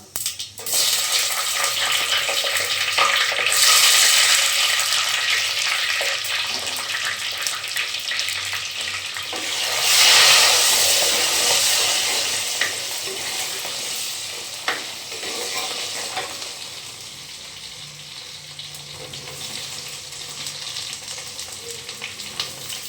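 Garlic dropped into hot oil after mustard seeds have spluttered, a steady close sizzle and crackle with stirring scrapes and a louder hissing surge partway through, no speech.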